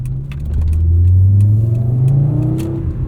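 A turbocharged 5-speed Volvo 850 R fitted with a 3-inch downpipe accelerates, its engine note rising steadily and loud from inside the cabin, with no talking.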